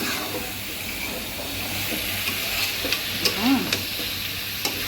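Curry with potatoes frying in a pot as broth goes in, a steady sizzle and hiss with scattered scraping stirs and clinks, close and moderately loud.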